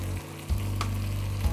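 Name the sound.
pork and spices cooking in a pan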